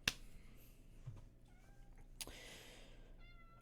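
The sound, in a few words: pet cat meowing during stream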